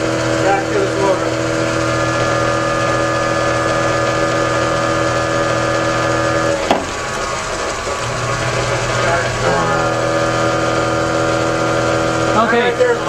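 A self-running fuelless 40 kW generator motor hums and drones steadily at close range, a continuous tonal engine-like whine with a couple of brief knocks and shifts partway through.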